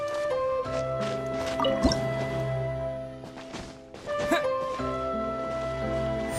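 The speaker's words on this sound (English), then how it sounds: "Wow, another water droplet just came out from the wall!" Water droplets drip from a wall in the video game Genshin Impact, giving soft liquid plops over a steady game music bed, with brief louder splashy hits around the middle.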